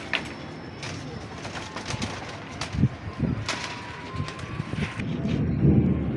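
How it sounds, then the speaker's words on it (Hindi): A golden pigeon on a loft perch gives soft, low cooing notes in short bursts amid light wind noise and background murmuring of a voice, fairly close and moderately quiet. "गोल्डन कबूतर है ये"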